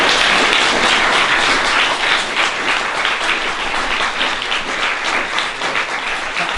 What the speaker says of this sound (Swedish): Varma applåder.